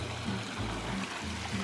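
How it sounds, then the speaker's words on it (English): Small waterfall spilling under a bridge on a mountain stream, a steady low rushing and trickling wash of water, fairly faint and continuous with no talk. "We're at a bridge, and there's a tiny waterfall."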